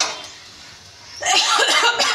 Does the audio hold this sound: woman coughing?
yes